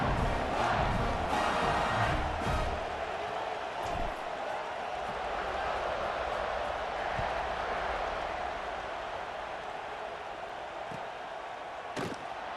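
Stadium crowd in EA Sports College Football 26 roaring steadily before a kickoff, a dense continuous cheer with a few thumps and a sharp bang near the end, heard alone without commentary.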